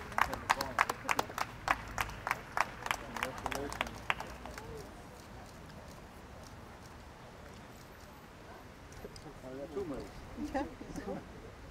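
Scattered outdoor applause for a pair of competitors at a land art event in Fredericia, a run of distinct claps fading after a few seconds, followed by faint crowd murmur and voices.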